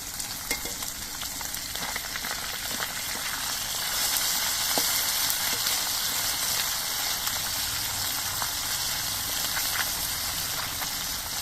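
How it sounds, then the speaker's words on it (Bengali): Amudi fish frying in oil in a pan, a loud steady close sizzle throughout with occasional light clicks as the thin fish are gently turned over, no talking. "মাছগুলোর এক পিট ভাজা হয়ে যাওয়ার পর আস্তে আস্তে মাছগুলোকে উল্টে দিতে হবে"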